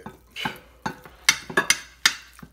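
Partly melted cheese being stirred and broken up in a metal pot for baked truffle mac and cheese, a series of sharp scraping clanks and knocks of utensil against pot, irregular and close, with quiet gaps between strokes.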